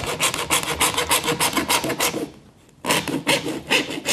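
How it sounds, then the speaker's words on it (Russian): A metal-cutting hacksaw rasps through embroidery frame material in quick, steady back-and-forth strokes, close and loud, pausing briefly before the sawing resumes. "Вот эта ножовочка, она как бы по металлу,"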